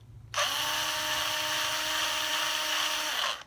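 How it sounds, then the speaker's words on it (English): Power drill boring into the headstock of an Epiphone SG guitar: a steady high-pitched whine starts abruptly, holds evenly for about three seconds close up, then cuts off. "I'm going to drill the first one"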